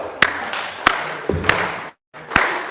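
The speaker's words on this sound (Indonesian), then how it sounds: "Ikut saya tepuk tangan." A church congregation claps along during a sermon. A few sharp, evenly spaced claps ring out close and loud, with a brief pause near the end.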